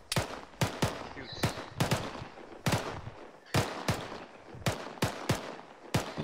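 Sharp gunshots fire in an uneven rhythm during army infantry training at OSUT with the 506th Infantry Regiment, about a dozen loud reports over several seconds, some close together, with outdoor background noise between them.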